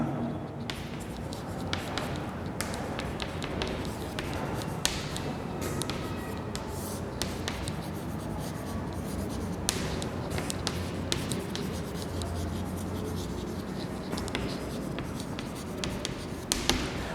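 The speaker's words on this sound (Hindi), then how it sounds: "मैं इसका एग्जाम्पल लिख देता हूं।" Chalk or marker writing an English tense example on a classroom board, with a continuous run of quick scratchy strokes and taps, fairly faint and close, and no talking.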